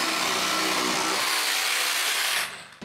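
A power saw cuts a plywood sheet for a cottage floor, a loud, harsh whining rasp that runs steadily for a couple of seconds before the blade stops abruptly.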